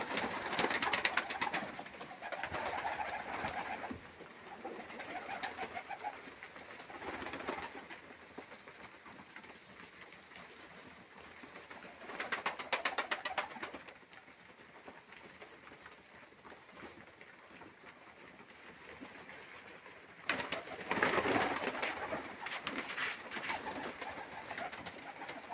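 Colour-tailed pigeons of Dagestan coo repeatedly in a loft with barley and wheat feed, their soft calls broken by several louder bursts of rustling or flutter.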